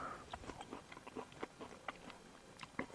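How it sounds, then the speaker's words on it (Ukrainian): A crunchy, fleshy white grape berry bitten and chewed up close, giving a quick run of small crisp crunches and wet mastication clicks, soft and steady without any talk. "Зараз я скуштую одну ягідку."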